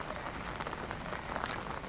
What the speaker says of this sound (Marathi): पाऊस खूप पडतोय आणि छत्रीमध्ये खतरनाक आहे